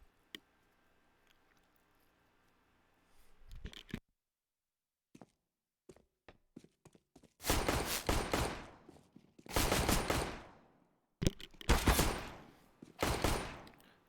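Counter-Strike gunfire in a competitive 5v5 tournament match: after a quiet stretch of faint clicks, several loud bursts of rapid automatic fire ring out close by, separated by brief pauses, with no talk.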